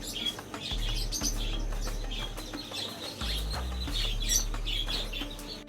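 Birds chirp and cluck in a pet shop at Souq Waqif in Al Wakra, with busy bright calls over a low steady hum.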